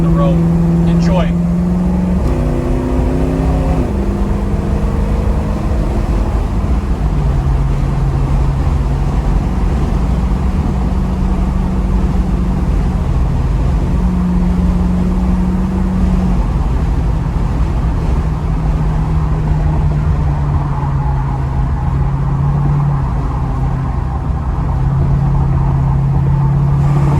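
A 1968 Ford Mustang Copperhead Eleanor kit car cruises down the road at around 70 miles an hour, its steady engine drone and road rumble heard from inside, with someone talking over it.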